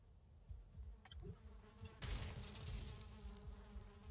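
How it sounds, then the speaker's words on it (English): In the video game Valheim, a bee's nest gives off a soft, continuous insect buzz over a low background hum, with a couple of faint clicks and a brief sharper swell midway. "Bee's nest."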